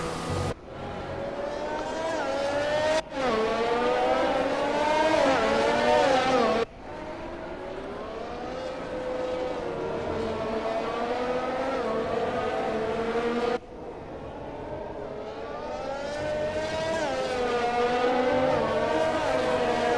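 Mercedes F1 race car engine in the F1 2020 video game on a wet Singapore Grand Prix circuit, a loud high-pitched screaming whine that rises and falls through gear shifts, with abrupt cuts between passes.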